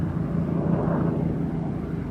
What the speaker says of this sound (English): the helicopter is coming back.